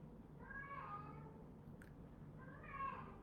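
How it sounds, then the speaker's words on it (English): A cat gives two plaintive meows, each a drawn-out wavering cry, separated by a pause with a brief click between them, moderately close in a quiet room. "So I'm having a hard time knowing that plaintive cry of my cat"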